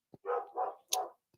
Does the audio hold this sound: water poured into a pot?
no